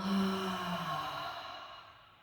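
A single long, audible sigh-like exhale through an open mouth during a relaxing yoga breathing practice, close and steady, fading gradually toward the end.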